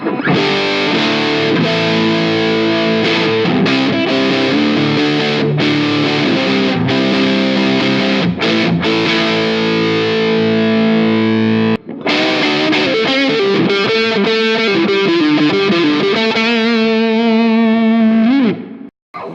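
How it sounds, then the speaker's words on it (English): An electric guitar plays with heavy distortion and no chorus effect, chords and single notes ringing out loudly with sustained, gritty tone and brief pauses between phrases. "So here's my dry tone with just the distortion and no chorus effect there."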